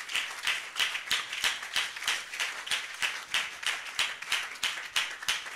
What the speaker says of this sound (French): If you are clapping for Jesus, you can go ahead and clap